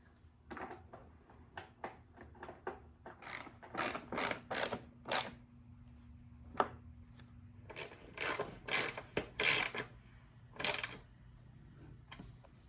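Seat bolts being driven into a 2005 Honda CRF450R dirt bike with a ratchet, close quick bursts of clicking ratchet strokes in uneven clusters separated by short pauses.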